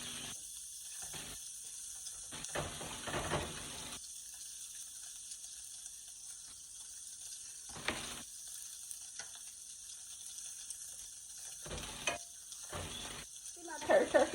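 Turkey kielbasa fries in a pan with a steady, quiet sizzle, broken by a few brief louder bursts of crackle and scraping as it is moved around.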